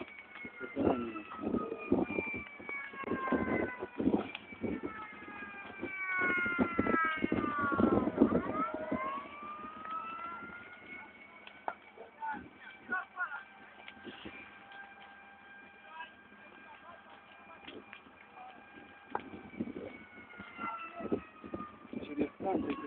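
Fire engine siren wailing at a burning CPL fuel station in Focșani, rising and falling in long sweeping tones that dominate the scene, with people talking faintly underneath and occasional street noise.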